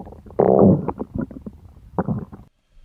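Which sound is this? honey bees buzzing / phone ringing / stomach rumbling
stomach rumbling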